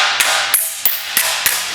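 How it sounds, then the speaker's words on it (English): Five sharp metallic taps ring out at an even pace as a hammer strikes sheet metal against a dolly held behind a curved flange, each hit bright and close with a short ring. "So now I'm going to use my hammer and dolly just to lift this edge up a little bit."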